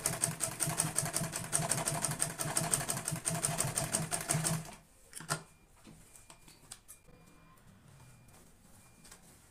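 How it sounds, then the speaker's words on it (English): A sewing machine top stitches a visor hat band, running in a fast rapid rattle for about five seconds, then stopping, followed by faint handling clicks. "I'll be top stitching on this."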